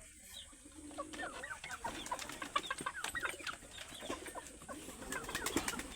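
Desi hens and their chicks cluck and peep on a farm, a busy, continuous mix of nearby clucks and sharp chirps with occasional wing flutters and no talking.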